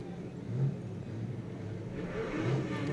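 Street stock race car pulling away after striking the fence, a steady mid-pitched engine drone rising slightly as it accelerates, moderately loud with no talk.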